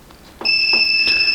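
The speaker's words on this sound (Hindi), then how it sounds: "और अब यहाँ पे बीप होना स्टार्ट हो चुका है।" A UTL MPPT solar inverter on a discharged 40Ah battery sounds a continuous high electronic low-battery warning tone, close and loud. Faint thumps and handling noise sit beneath it, and there is no speech.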